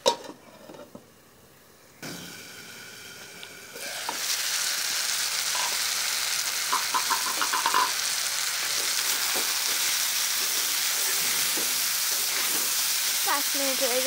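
Malabar spinach with dried kachki fish frying in a pan, a steady loud sizzle that swells after a quieter start, with occasional clinks of utensils and a lid.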